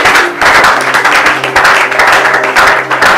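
A church congregation applauds in acclamation of Jesus Christ during a French-language Bible teaching on Exodus, with dense, continuous clapping that swells in rhythmic waves for a few seconds.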